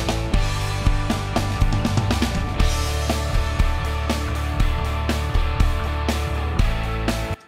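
Two electric guitars play together in a rock mix, their complementary EQ carving them apart and panning one hard left and one hard right; the strummed chords ring steadily and loudly throughout with a full, dense band sound and no talking.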